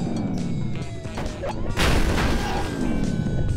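Car in a racing video game slamming into something: a loud crash with a burst of impact noise and scraping, growing dense and sustained toward the end, with no talk over it.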